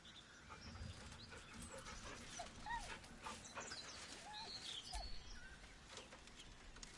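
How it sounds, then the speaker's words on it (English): A dog whimpers and whines softly in Baldur's Gate 3, with thin high whines over a steady low ambient bed and scattered faint bird-like chirps through the scene. "The dog whimpers nervously, as if to urge you on."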